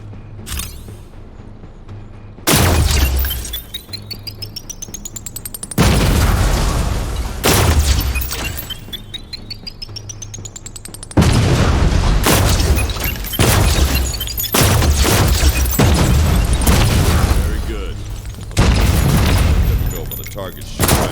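A futuristic agency gun in the VR shooter Defector VR fires in its secondary mode, loud booming discharges in several separate bursts, each followed by sweeping mechanical whines and rattles, with a voice talking between shots.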